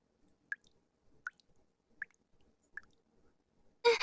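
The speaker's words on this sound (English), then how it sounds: "Water's coming from the ceiling!" Water drips from a ceiling in the NIKKE video game, four clear, evenly spaced drops falling alone in a quiet room, followed by a brief burst of louder noise at the end.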